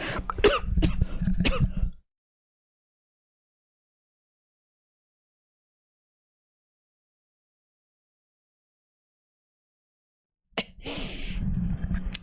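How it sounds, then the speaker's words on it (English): Close, harsh coughing in rapid bursts, then a long stretch of silence before more coughing and throat sounds resume. "sorry, sudden coughing fit"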